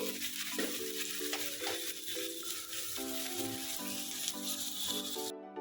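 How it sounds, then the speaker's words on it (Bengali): Sliced onions fry in oil to make birista, a constant soft sizzle and stirring heard beneath steady background music that ends abruptly. "আমি বেরেস্তা বানিয়ে নিয়ে ফিরে আসছি"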